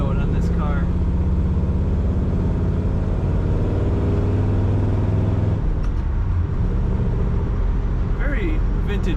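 A 1956 Ford Fairlane Sunliner convertible's opened-up exhaust rumbles loudly and steadily from inside the vehicle, a low throaty drone that shifts briefly midway, with faint speech at the start and end.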